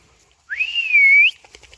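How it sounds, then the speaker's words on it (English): A single rising, wavering human whistle lasts under a second, close and clear against near silence, used to call a Cane Corso dog. "And that was a very weak whistle on my part."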